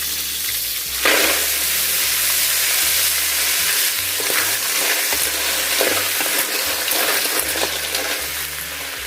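Snails frying in a pan with a steady loud sizzle and crackle throughout, interrupted by low thumps of stirring and handling.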